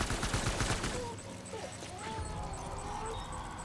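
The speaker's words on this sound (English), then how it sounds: "I have to shoot them a lot." Gunfire from shooting enemies in the game Death Stranding rattles in a quick dense burst at the start, then gives way to scattered whistling tones and softer background rumble.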